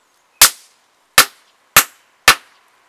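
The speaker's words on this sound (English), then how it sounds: "I'm just going to smack it till it blows up." Tetrazene explosive struck with a hammer on a wet rock pops off in four sharp, loud cracks spaced roughly evenly over a few seconds, each a crisp snap with a short decay and silence between.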